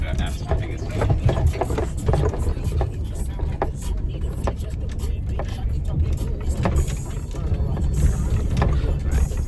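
A four-wheel drive vehicle rolls along a rough dirt road in the Ikara-Flinders Ranges, its engine and tires producing a steady, continuous rumble with rattling and crunching from the gravel, heard nearby throughout.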